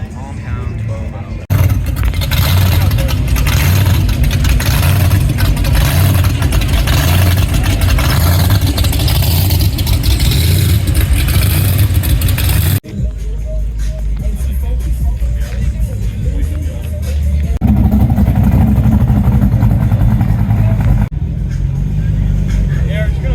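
A 12-valve swapped Cadillac Sedan DeVille revs hard in a burnout competition, its engine roaring loud and steady for long stretches with a few sharp drops, while people talk over it nearby.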